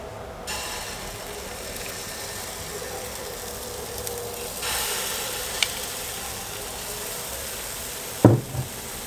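Drop scone batter made with milk powder sizzles steadily in a hot pan, a soft continuous hiss that swells slightly midway, with a couple of brief clanks of utensils near the end.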